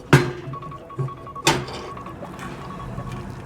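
Water added to a pot of rice inside a small Kei mini truck camper: a couple of sharp pours and thunks with dripping between, close and fairly loud, no talk.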